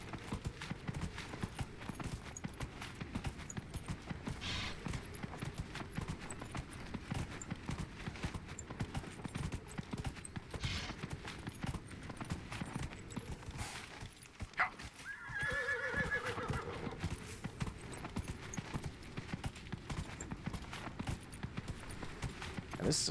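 Horse in Dragon Age: Inquisition, steady clip-clop of galloping hooves running throughout with a loud whinny near the middle, set against continuous game ambience.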